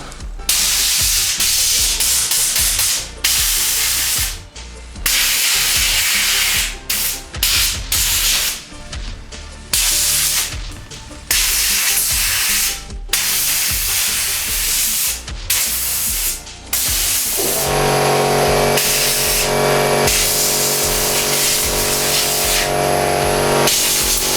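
A Procraft BG 34 air blow gun at 6 bar fires loud, close bursts of hissing air, as when cleaning a bicycle. The blasts come in repeated short and long spurts, then one continuous blast near the end.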